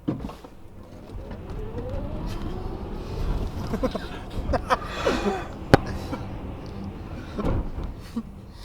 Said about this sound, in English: So 0 kilometers an hour, dead launch from a Tesla.